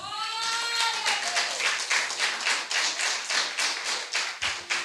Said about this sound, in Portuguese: Bate palmas por isso.